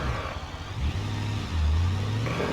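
A monster truck's engine in a video game drones and revs unevenly as it crawls over rocks, rising in pitch toward the end, close and steady with no voices.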